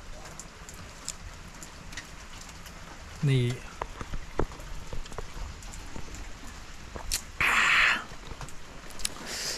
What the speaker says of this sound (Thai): ฝนยังไม่หยุดตกเลยนะ